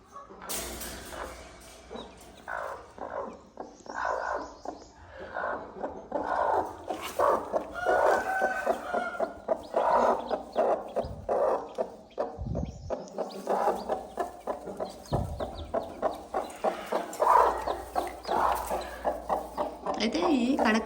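Kadaknath hens cluck repeatedly in a farm setting, with nearby rooster calls and fowl chatter mixed under a person talking throughout.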